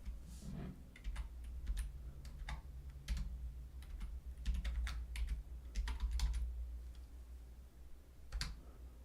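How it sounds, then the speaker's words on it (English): Computer keyboard typing during a post-game chat session, a quiet run of irregular clicking keystrokes in bursts over a low steady hum, with no voices. "Let me type something and see if anybody's in here."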